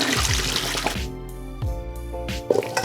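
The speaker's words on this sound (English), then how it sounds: "So now we're gonna pour our tapioca pearls into the strainer." Cooked tapioca pearls and their hot water pour into a strainer at a kitchen sink, giving a steady splashing, draining rush for about a second, then a gentler trickling and dripping with a few small knocks.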